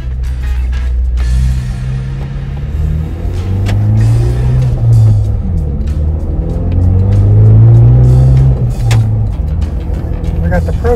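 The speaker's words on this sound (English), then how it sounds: "Let's give these new gears a little bit of a test drive." A Ford Bronco on a test drive with freshly installed axle gears hums with a steady engine rumble and low road drone, rising gently as it accelerates, while someone talks over it throughout.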